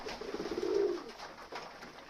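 Pigeons feeding in winter coo in a low, rolling burst, fairly quiet and near, over a soft background of pecking and movement.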